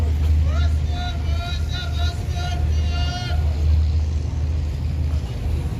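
A passenger boat pulling up to a pier in Istanbul, its low engine drone steady and close, with someone speaking over it and faint background voices.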